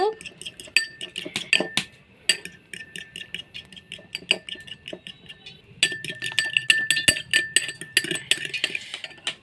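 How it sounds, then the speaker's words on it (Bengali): An egg with a pinch of salt is whisked in a bowl, a fork or spoon clinking rapidly and irregularly against the sides in close, bright bursts with a short pause midway. "একটি ডিম নিয়ে নিয়েছি দিয়ে দেবো সামান্য লবণ লবণ দিয়ে এবার ফেটে নেব"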